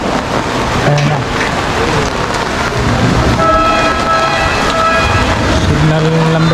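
Heavy rain falls steadily outdoors during a Signal No. 3 typhoon, a dense loud wash mixed with passing traffic and occasional horn-like tones, with talk over it.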